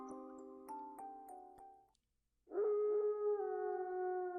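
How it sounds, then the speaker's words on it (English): In the video game Raging Loop, a long mournful howl rises after a short pause and holds steady. Before it, soft plucked musical tones ring out, and no one speaks. "A howl."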